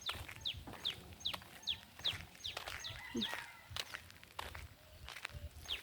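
Chickens cluck and squawk in quick, agitated bursts, mixed with scuffling footsteps; fairly faint, with a low voice briefly underneath.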